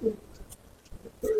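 Pigeons in a loft giving short low coos, two clear bursts at the start and end with quieter murmurs between, close by and with no talk over them.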